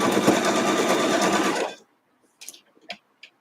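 A sewing machine with a quarter-inch foot stitches a quilt block in a steady, close, fast whir for under two seconds, then stops, followed by a few faint clicks and handling sounds.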